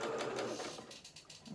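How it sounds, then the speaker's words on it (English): A sewing machine runs a straight stitch across fabric with a quick rhythmic chatter of the needle, close and steady, slowing toward the end. "start and just sew across this, just with a straight stitch"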